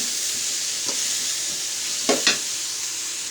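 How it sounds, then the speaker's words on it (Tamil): Carrot and beetroot with salt sautéing in a pan give a steady, close sizzling hiss, broken by a few short spatula scrapes and stirs. "இதை வதக்கிக்கலாம் நல்லா."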